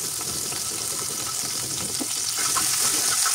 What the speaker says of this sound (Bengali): এখন আমি প্যানের মধ্যে আরেকটু তেল দিয়ে কাটা পেঁয়াজ, ফালি করা কাঁচামরিচ, কাটা রসুন দিয়ে দিচ্ছি